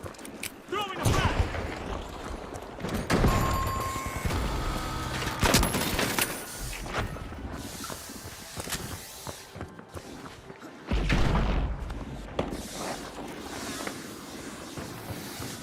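Frag grenade tossed and going off in the shooter game The Finals, amid a dense, loud mix of gunfire, booming blasts and rumbling battle noise that runs continuously for the whole stretch.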